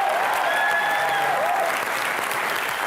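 Studio audience on an Indian comedy talk show applauding for guests Jeetendra and Tusshar, steady loud clapping throughout with a few whistles mixed in, no speech over it.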